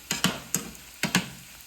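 Okra and bacon fry in a pan, with a low steady sizzle broken by four or five sharp, close crackling pops in an uneven rhythm.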